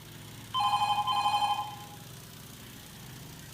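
A telephone rings in the Farming Simulator 22 game, in two quick electronic trills close together. A faint engine-like hum sits underneath, and a third ring begins just as it ends.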